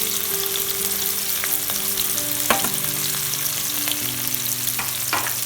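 Onions fry in hot oil for a Kerala-style inji curry, a constant loud crackling sizzle with occasional sharp clicks of a spoon against the pan, close and without voices.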